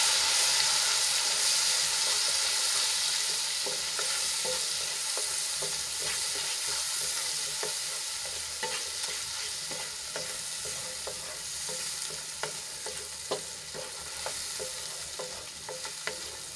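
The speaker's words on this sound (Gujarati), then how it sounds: "એમાં આપણે 2 મોટી સાઈઝના ટમેટાની પ્યુરી એડ કરી દઈશું અને તેલમાં સરસ રીતે મિક્સ કરી લઈશું" Tomato puree goes into oil and flour already frying together, and a spoon stirs it through with a dense, hissing sizzle and repeated scraping taps that grow more frequent toward the end, with no voices.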